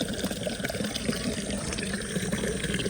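Cold water flows steadily at an old stepwell inside Kangra Fort, Himachal Pradesh, a continuous rushing splash held at an even level for the whole stretch with no talk over it.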